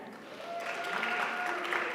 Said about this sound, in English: You can clap, y'all.